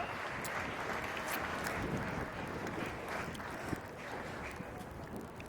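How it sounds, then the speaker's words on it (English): Spectators at a polo match at The Villages Polo Club clap outdoors, a steady wash of applause with wind noise across the open field, fairly distant and continuous throughout. "Let's give both these teams a round of applause."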